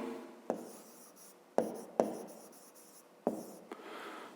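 Pen strokes on paper while working a fifth-grade math exercise: a few sharp taps and short scratchy strokes in irregular bursts, close and quiet, with no talking.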